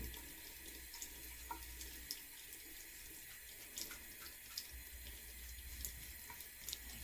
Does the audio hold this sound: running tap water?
yes